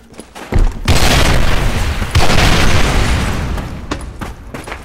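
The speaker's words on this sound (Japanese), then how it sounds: "マオさん一発当ててる、スナイパーで" A sniper rifle shot in a clan-match video game bursts out loud and booming, followed by a second heavy blast about a second later, each trailing off in a rumbling decay.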